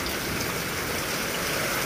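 Heavy rain pouring down near a farm with a cattle shed, a dense, steady roar of falling water with no breaks or other sounds.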